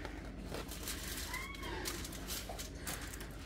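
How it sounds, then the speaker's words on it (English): A single faint cat meow rises over a quiet kitchen with a low steady hum. "You hear the kitties, they are saying, Mama, it is almost dinner time."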